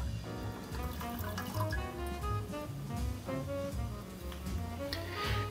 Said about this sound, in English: let's get the water out of here and put it in the cup